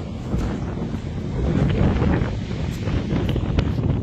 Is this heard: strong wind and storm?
yes